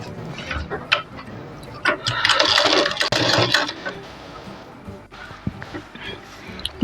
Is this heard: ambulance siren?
no